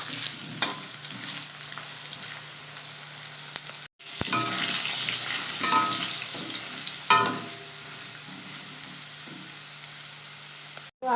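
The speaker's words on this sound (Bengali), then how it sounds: "এমনি লাল লাল করে আলুটা ভেজে নিচ্ছি।" Steamed potatoes, already salted and coloured with turmeric, fry in oil until browned, with a constant close sizzle and a short pause partway through as they are stirred.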